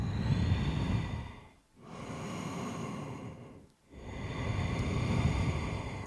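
Slow, deep breaths during a yoga class, heard close up as long airy inhales and exhales in two full cycles with brief quiet pauses between them.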